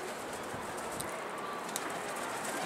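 Soft, low cooing of birds mixed with rustling and faint flutters, heard against a steady background hiss.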